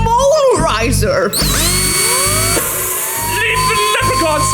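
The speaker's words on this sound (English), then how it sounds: "What comes drilling in? Only the mole riser!" Drilling machine sound effect in a school radio play, a mole riser machine boring in: loud, continuous whirring and grinding with rising and falling pitch sweeps, close and dominant throughout.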